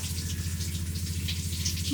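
Shower water running steadily inside a van, a continuous even spray and patter with no pauses, filling the space at a moderate, constant level.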